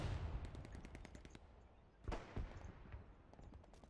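Artillery and gunfire crackle through a World War II video game battle, with a rapid string of distant sharp shots followed by two heavier booming impacts, then more scattered faint pops, all fairly quiet.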